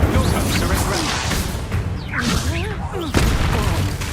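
An Incendio fire spell cast in Hogwarts Legacy, heard as whooshing magical bursts and a thumping impact amid dense combat effects and music, loud and close throughout.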